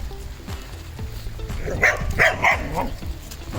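A dog barks a few times at mid distance amid rain-soaked outdoor ambience, with short yips and whimpery sounds between.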